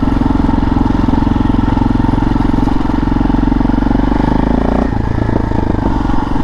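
A rebuilt KTM 640 motorcycle ridden along the Yorkshire Coast, its loud single-cylinder engine thumping steadily up close, with a brief shift in pitch near the end.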